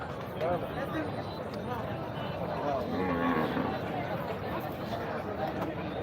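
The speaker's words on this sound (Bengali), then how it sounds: "এখানে অসংখ্য ছোট বড় মাঝারি সাইজের গরু রয়েছে" Cattle lowing at a busy open-air livestock market selling cows, goats and buffalo, a few moos rising from a steady hubbub of crowd chatter and nearby voices.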